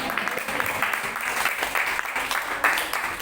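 Audience at a religious healing service clapping in a sustained burst of applause, steady and fairly loud throughout, with no pauses.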